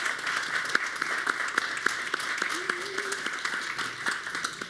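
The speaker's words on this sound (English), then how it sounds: "Can we get a big round of applause for them" An audience applauds student union candidates at a campus Q&A with steady, even clapping, dense and moderately near, while a faint voice murmurs underneath.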